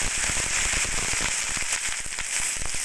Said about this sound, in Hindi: ये देखो ब्लू फायर लगा दी।